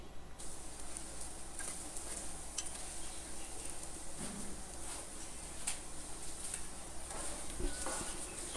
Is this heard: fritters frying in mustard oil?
yes